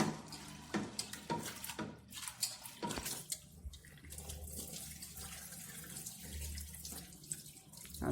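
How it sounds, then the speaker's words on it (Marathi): Tap water runs steadily into a sink while half a kilo of dal is rinsed two or three times in a home kitchen, with splashing and brief bursts of louder flow over a continuous gush. "आता ही चांगली 2-3 पाण्याने मी धुवून घेतली डाळ."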